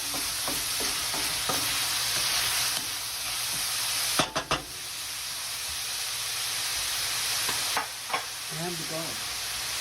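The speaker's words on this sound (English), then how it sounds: "let that start to saute" Crumbled sausage with chopped mushroom and pepper sautéing in a pan, a steady close sizzle and hiss with a few clattering stirs of a utensil.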